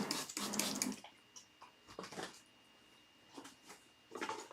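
Water from a tap or jug splashes into 5-inch cereal bowls for a grow-food garden setup, a short loud pour at the start followed by quieter intermittent trickles and splashes, with a final burst near the end.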